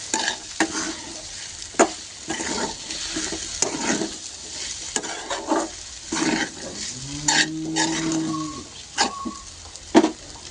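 Soaked sabudana is stirred into khichdi in a pan with fresh curry leaves: close, repeated spoon scrapes and stirring strokes over a sizzle, with a brief tonal hum midway and no voices.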